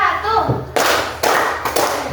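A class of fourth-grade schoolchildren claps in a classroom clap chant, a voice first, then three sharp, loud unison claps in an even rhythm.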